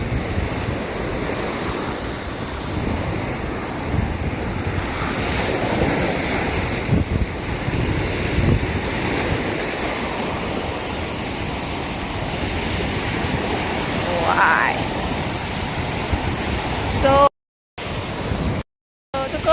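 Sea waves and wind at Na Jomtien beach make a continuous loud roar of surf with gusty wind buffeting the microphone, steady throughout with a couple of sudden dropouts near the end.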